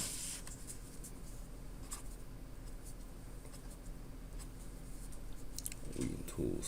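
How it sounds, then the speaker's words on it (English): A curve drawn on a board during an engineering lecture on analog-to-digital converters, with faint scratchy marker strokes under light room noise. "So I'll draw this really quick."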